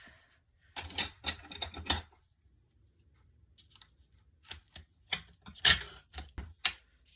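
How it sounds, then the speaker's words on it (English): Foam tape is pulled and pressed along the edges of a white handmade card in close, crisp bursts of clicks and crackles, a dense cluster early on, a quiet pause, then several sharper snaps spaced apart. "So I'm going to run a nice line of foam tape all around the edges."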